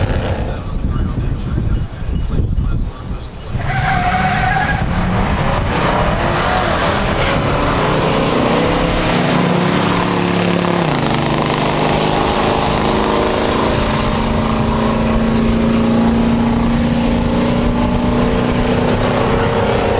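A 1969 Hurst/Olds and a 1969 Buick GS 400 in stock form launch down a drag strip, their engines roaring loud and close throughout, the pitch climbing through the gears with a shift dip midway, with no talking.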